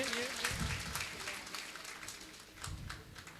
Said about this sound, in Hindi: जोरदार तालियां बीच बीच में चलती रहनी चाहिए